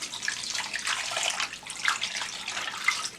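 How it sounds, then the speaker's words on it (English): Water pours steadily from a tap over salted fish set out for frying, a soft continuous splashing and rushing at low volume with no talk. "I'm going to pour water on it"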